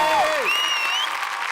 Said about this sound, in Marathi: पण यांच्यासाठी जोरदार टाळ्या.